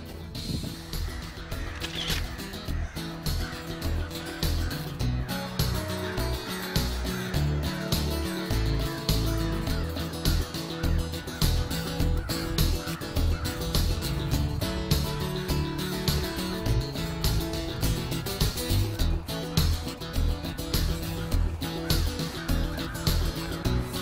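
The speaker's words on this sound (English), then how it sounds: "This is a great horned owlet, about 10 days, 2 weeks old." Great horned owlet about two weeks old calling, a rapid repeated rasping hiss or screech close by, continuing in steady pulses throughout.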